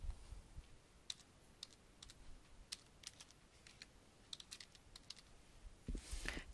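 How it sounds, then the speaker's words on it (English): A username and password being typed on a computer keyboard: faint, sparse key clicks in short irregular bursts against a quiet background, with a brief louder clatter at the end, no speech. "Again, enter your username and password."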